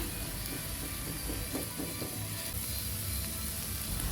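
A steady sizzle fills the pan as an egg mixture and meatballs for a cireng filling fry, with faint scraping from stirring running underneath throughout.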